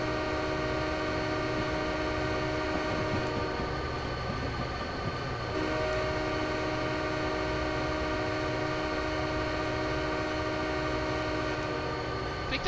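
A locomotive horn sounds at a whistle post in Train Simulator 2015 on Soldier Summit, a sustained multi-tone chord held almost without a break over a steady engine rumble, loud and continuous.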